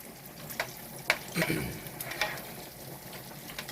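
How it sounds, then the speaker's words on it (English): Bacon frying in a pan for pasta carbonara, a soft steady sizzle with faint crackles and brief clinks of utensils, fairly quiet and close with no talking. "We'll cook this, the bacon, the entire time the noodles are cooking until they're done."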